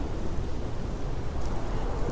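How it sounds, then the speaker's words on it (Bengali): Heavy rain in a cartoon ghost story set at a tea stall, a steady dense wash of rainfall with a low rumble of thunder underneath, continuous and fairly loud throughout. "এদিকে বৃষ্টি ক্রমশ বেড়েই চলেছে, কখন যে থামবে তার কোনো ঠিক নেই।"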